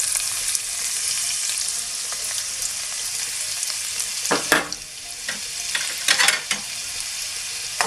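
Garlic sizzling in hot oil with five spices in a frying pan for Bengali potato fry, a continuous bright hiss with a few stirring scrapes and clatters partway through.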